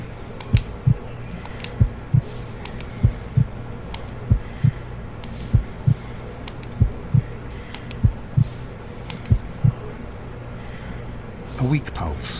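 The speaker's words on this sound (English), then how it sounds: "I need to concentrate and count the heartbeats." A slow, steady heartbeat in the Sherlock Holmes: Crimes and Punishments game, about a dozen evenly spaced soft thumps over a low hum, with a brief burst of other noise near the end.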